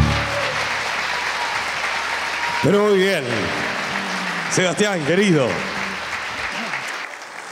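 Audience applause for tango performer Sebastián Prieto at a live show, continuous clapping from a crowd throughout, with someone speaking over it twice.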